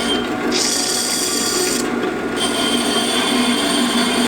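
Metal tubing for a turbo merge on an eight-turbo V8 Mustang is cut with a power tool, making a loud, steady, close grinding whine whose pitch dips briefly midway before it stops abruptly.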